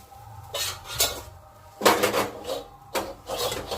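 A plate holding a filling of peas and boiled potato is handled and set down on a hard surface, giving three bursts of clattering and scraping between quiet pauses, with no talk.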